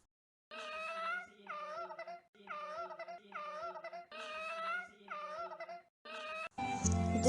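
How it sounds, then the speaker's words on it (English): A turkey gobbles loudly and close by in six repeated rippling bursts with brief gaps between them, followed by a harsher, noisier call at the end. "This is turkey."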